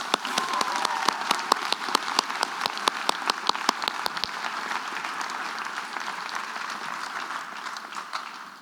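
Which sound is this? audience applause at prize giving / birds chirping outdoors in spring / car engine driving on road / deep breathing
audience applause at prize giving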